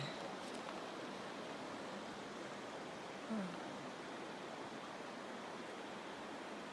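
Broad, steady rushing of the Gila River flowing at a trail crossing in New Mexico, an even wash of water noise that holds constant throughout with a brief faint bump midway.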